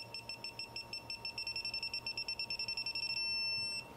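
An ACDelco ARM601-4 electronic torque wrench beeps rapidly on reaching set torque, in a steady fast rhythm, high-pitched and loud, ending in a sustained tone before stopping.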